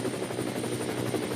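A helicopter filming an endurance race at the Nürburgring gives a steady, pulsing rotor thump with a continuous engine whine, sustained and fairly close.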